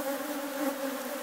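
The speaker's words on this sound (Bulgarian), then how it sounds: "пчелите са доста около нас, но това е напълно нормално" Honeybees buzz close around beekeepers working a hive near goldenrod, a dense, continuous, even drone with no voices.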